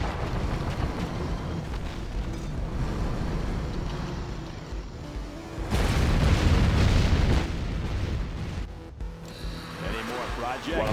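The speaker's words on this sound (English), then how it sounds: "Particle cannon activated." A particle cannon blast in the strategy game C&C Generals booms out as a heavy, sustained explosive roar midway through, amid ongoing game battle noise.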